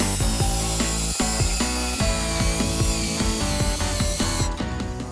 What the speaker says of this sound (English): best friend in this thing is going to be this handy dandy paint mixer and a good drill